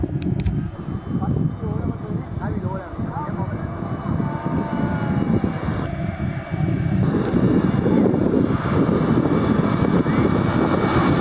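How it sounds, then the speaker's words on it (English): Airplane flying low overhead on approach to land at Phuket airport, beside Mai Khao Beach; a loud, steady engine roar fills the whole stretch, with voices in the background. "We got a plane about to land directly over the top of us."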